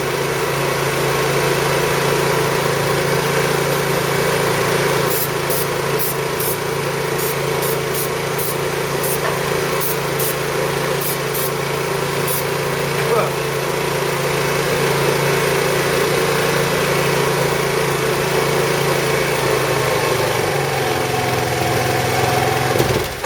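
Roketa scooter engine idling steadily during repair work, a continuous close mechanical drone, with a run of short sharp spray hisses partway through and no speech.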